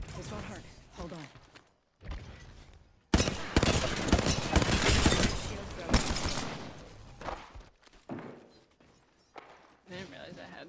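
Gunfire in Apex Legends crackles in rapid bursts, heaviest in a long sustained volley mid-clip, while a voice talks during the quieter stretches.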